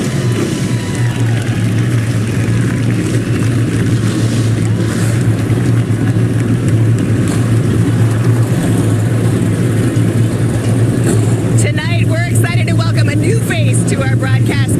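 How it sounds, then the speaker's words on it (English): Race car engines roar together at Five Flags Speedway during the 2022 SRX Round 1 start, a loud, steady, dense drone that continues throughout. Crowd noise sits underneath, and a brief higher warbling rises near the end. "Drivers, start your engines."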